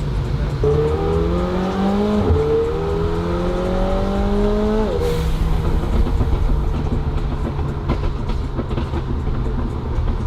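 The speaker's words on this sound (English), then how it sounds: "those blowout valves are so satisfying" Turbocharged cars passing with blow-off valves venting, a rising-then-falling whine and hiss over steady traffic rumble, loud and fairly close, fading into road noise.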